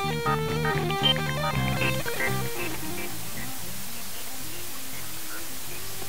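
Music reduced to 8-bit with TPDF dither plays quietly and fades into a steady, even hiss of dither noise that carries on alone, with faint traces of the tones still audible beneath it.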